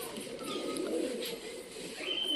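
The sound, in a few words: pet pigeons cooing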